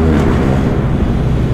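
Steady, loud rumble of a 145-horsepower motorcycle running through an Akrapovic exhaust, close and sustained, with a slight swell near the start.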